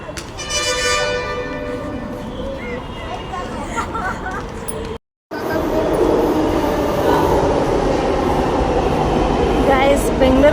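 A crowded Bangalore metro train runs with a loud, steady rumble and rattling rail noise, briefly cut off midway, then resuming with a deeper roar and occasional high squeals; voices mingle underneath.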